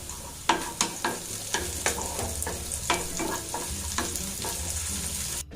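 Green chili and curry leaves sizzle in hot oil in a pan while a spoon stirs them, with a regular series of scraping knocks against the pan over a steady frying hiss.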